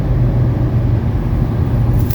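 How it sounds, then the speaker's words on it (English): A 1985 Mercedes 300D sedan with its diesel engine drives on the road, giving a loud, steady low rumble heard from inside the car with no talking. "this is the healthiest 123 sedan engine I've ever driven"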